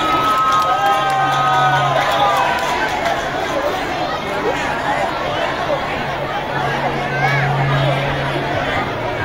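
Crowd noise at a summer camp performance show, a busy mix of chatter, cheering and children's voices with scattered clapping, loud and continuous with music tones drifting underneath.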